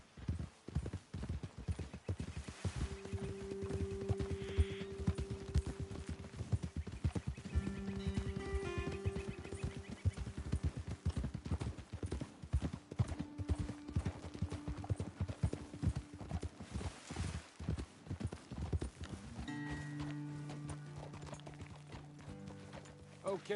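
Horses' hooves clip-clop steadily on a trail in Red Dead Redemption 2, a close, rhythmic stream of hoofbeats with occasional whinnies and snorts, and brief talk layered over it.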